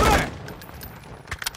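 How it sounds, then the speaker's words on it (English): Gunfire in a military combat scene, opening with a loud close burst and followed by fainter scattered shots and cracks. "Taking effective fire."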